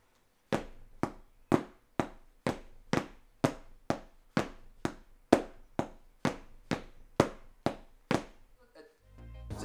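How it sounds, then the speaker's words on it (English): Drumsticks striking a cushion placed on a chair, about sixteen muted, dull thuds in an even steady rhythm, close and fairly quiet, each hit dying away quickly. "all you need is a pair of drumsticks, a chair, and maybe something to put on top of the chair"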